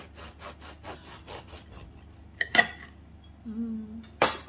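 A knife saws through a second piece of freshly cooked food in a frugal student-meal kitchen, giving close, soft repeated rasping strokes that fade, then a sharp clack, a brief scrape and a final knock.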